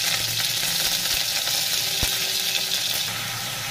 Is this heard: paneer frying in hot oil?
yes